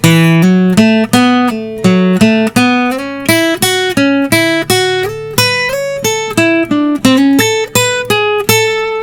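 A lead guitar lick is played slowly, each picked note ringing separately in an even, deliberate sequence of about twenty notes, loud and close.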